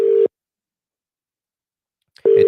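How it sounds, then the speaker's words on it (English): A telephone ringing tone during a call: a steady electronic tone is heard, cut off by a long silence, then heard again, loud and clear with no talking. "It's ringing."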